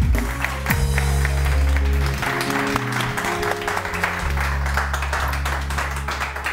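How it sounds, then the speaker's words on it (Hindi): A studio audience on a TV morning show claps in an ongoing burst of applause, heard over loud sustained music chords that dominate the low end. "बहुत सारी तालियां जी, बहुत सारी तालियां।"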